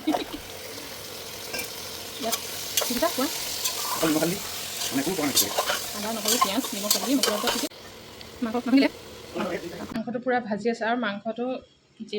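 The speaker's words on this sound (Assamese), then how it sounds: "ধুনীয়া ধুনীয়া ভাজি আছে পূৰা" Nepali-cut goat mutton fries and is stirred in a hot pan: a bubbling sizzle with repeated scraping stir strokes, while a person talks over it. Near the end the cooking noise thins out and the voice carries on mostly alone.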